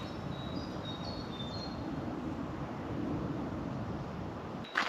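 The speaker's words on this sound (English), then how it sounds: "You can hear a lot more birds now" Faint, high birdsong chirps drift over a steady outdoor rumble of wind and distant noise, the birds sounding far off and light.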